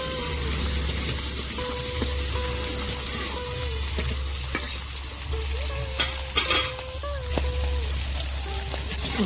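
Bata fish in a sour curry with mango, salt and turmeric is stirred in a pan, giving a bubbling sizzle with repeated scraping strokes near the microphone and faint chirping in the background.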